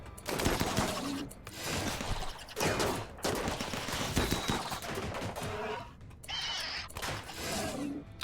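Turret gunfire in the RimWorld video game, a dense crackle of rapid automatic shots running almost without pause, loud and close, with brief gaps between bursts.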